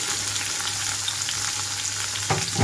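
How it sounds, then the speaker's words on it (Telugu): Tomatoes hit hot oil in a pan and fry with a steady, even sizzle, ending in a brief louder stir or scrape near the close, with no voices. "ఇక్కడ ఆయిల్ అంతా హీట్ అయ్యాక టమాటో వేసేసుకొని"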